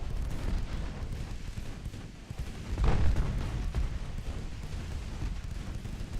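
Secondary naval guns on warships in Ultimate Admiral: Dreadnoughts fire in a rumbling barrage, a continuous low roar of distant shots with one heavier boom swelling near the middle.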